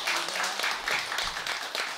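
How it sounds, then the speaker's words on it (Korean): An audience at a Buddha's Birthday ceremony at a Korean temple claps for a lay association president, brief scattered applause of moderate loudness with faint voices beneath. "박수 한번 쳐주십시오."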